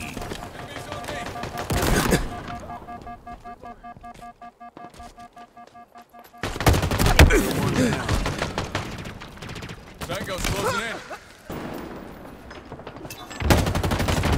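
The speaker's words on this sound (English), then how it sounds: "S7 sniper here. Watch this. Killing spree. S7 sniper inbound." S7 sniper rifle shots in Halo Infinite, played on Xbox Series X|S and Xbox One X/S, with sharp gunfire bursts amid game effects, an announcer voice speaking between them.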